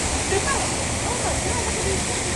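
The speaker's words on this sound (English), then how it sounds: "Oh, no, folks, there's a flash flood." Loud, steady roar of rushing water from a simulated flash flood on a Busch Gardens theme park river ride, a continuous wash of churning water with faint voices mixed in.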